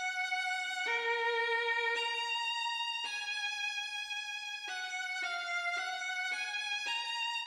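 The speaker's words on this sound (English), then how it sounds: "later in the piece, we'll hear this violin solo." A sustained melodic line from a Kingdom Hearts 358/2 Days piece, heard as a violin solo, with smooth bowed notes changing pitch in steady succession, rich in harmonics and evenly loud throughout.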